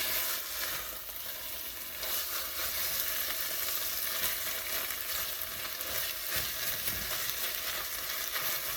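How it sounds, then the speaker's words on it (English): Tomato paste and onions fry and crackle in a pot for peanut soup while being stirred, a continuous bright hiss of sizzling with occasional scraping strokes, close and steady with no talking. "So what I'm going to do is just keep stirring this until I get a brown color"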